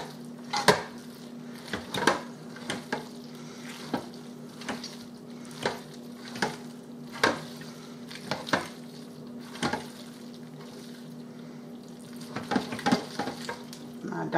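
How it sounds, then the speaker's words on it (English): A spoon stirs diced cheese into hot macaroni in a pot until it melts, giving repeated close scraping and clacking strokes against the pan over a steady low hum, with no talking. "And we're going to stir this around till it melts."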